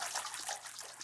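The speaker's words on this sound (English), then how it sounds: "Water in the bathtub with a bit of stretching" Bathtub water recorded at home, slowed and stretched into a smeared, hissing wash of trickling liquid, continuous and fairly close, lasting about a second with a brief swell at the end.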